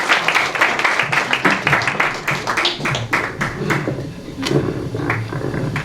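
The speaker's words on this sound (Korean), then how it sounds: "네, 박수로 모시겠습니다." Audience applause welcoming a singer onto the stage at a Trust Forum event in Busan, a dense, loud wash of clapping that carries steadily throughout with a few sharper individual claps standing out.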